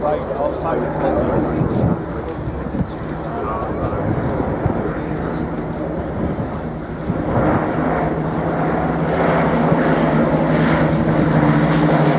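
A Supermarine Spitfire with clipped elliptical wings drones overhead at Shoreham Airshow, its propeller engine a steady broad roar that swells slightly later on, while a commentator talks over it.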